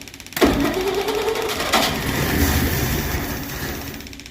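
A 1963 Studebaker Champ engine turning over on its starter, a sudden loud onset followed by steady, rhythmic cranking churn up close, with no voices.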